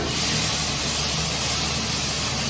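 Two tablespoons of ginger (adrak) paste sautéing in a hot pan gives a steady, close, broadband hiss and sizzle that holds without a break and with no talking.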